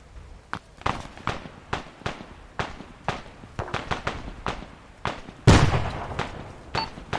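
Rifle fire in the military game Arma cracks out in a steady run of sharp single shots about every half second, with one much louder, closer blast near the end.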